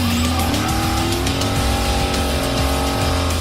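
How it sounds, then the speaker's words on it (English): Supercharged 750-horsepower hot rod called Eleanor burning rubber, a loud sustained tire squeal layered over a roaring, revving engine, close and continuous. "an even bigger supercharged engine turns Eleanor into a 750 horsepower rubber burning bad girl"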